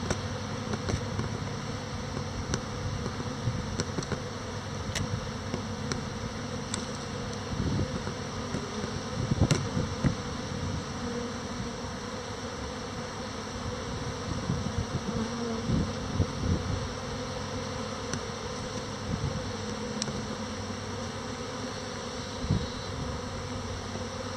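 Honey bees buzz steadily around open hives at a vineyard apiary, a dense continuous drone with occasional louder passes of single bees close by, no talking.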